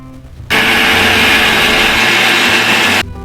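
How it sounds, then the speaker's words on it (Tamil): A mixer grinder whirs loudly and steadily, grinding aloe vera and herbs into a smooth paste for herbal soap, starting abruptly after a short quiet moment and cutting off near the end. "இதையும் சேர்த்து நல்லா நைஸாக கொஞ்சம் நேரம் ஓட விட்டு நல்லா மை போல் அரைச்சி எடுத்துருங்க"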